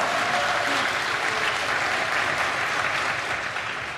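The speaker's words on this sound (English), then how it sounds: "yeah, sure, you can clap for cyber." Audience applause at the opening of the May Contain Hackers 2022 hacker camp, a dense, steady wash of many hands clapping that carries on throughout and eases slightly at the end.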